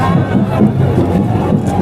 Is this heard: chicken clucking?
no